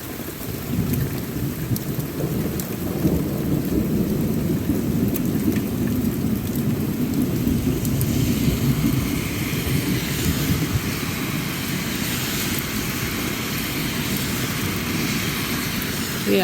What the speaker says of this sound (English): Hearing a lot of thunder.